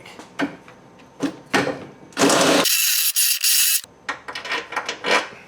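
A power drill works while a Draw-Tite trailer hitch is installed on a Chevrolet HHR: a sustained whirring burst of a second or so, surrounded by scraping, rubbing and clattering handling noises up close.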